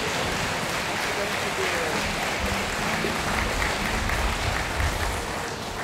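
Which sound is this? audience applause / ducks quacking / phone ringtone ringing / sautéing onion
audience applause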